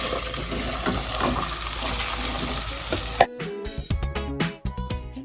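Sliced bananas cook in melted butter in a pan on the stove for caramelized banana bread, sizzling loudly and steadily for about three seconds before the hiss gives way to sharper, clattering sounds.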